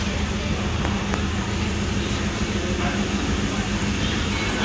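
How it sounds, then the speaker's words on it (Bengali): DEMU passenger train 07526 pulls out of Bagrakot station in North Bengal, a steady low rumble and rolling hum heard from aboard, with brief clanks and a voice speaking over it. "বাগরাকোটে বামনহাট ডেমু ক্রস করে যাওয়ার পর আমাদের ট্রেন ছেড়ে দিল পাঁচটা বেজে দশ মিনিটে"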